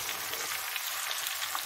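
Raw mango pickle being stirred in a hot pan, giving a dense, continuous frying hiss with a faint scraping texture throughout the short stretch.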